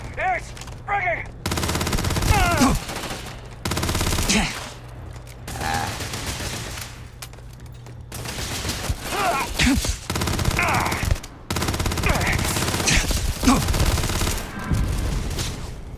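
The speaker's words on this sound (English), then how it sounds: "And they're shooting us from over there." Dense bursts of gunfire in the space game Starfield, rapid automatic shots in loud clusters separated by short gaps, close and punchy, with a voice talking in between.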